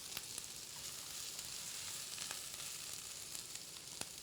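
Ginger and garlic sautéing in a pan, a quiet steady sizzle with occasional sharp crackles and pops, no voices.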